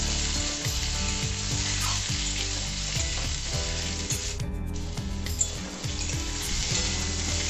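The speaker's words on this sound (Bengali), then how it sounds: "পেঁপে আলু আমার হালকা করে ভাজা হয়ে গেছে" Papaya and potato pieces sizzle and fry steadily in a pan of oil, with occasional stirring scrapes, close and continuous with no talking.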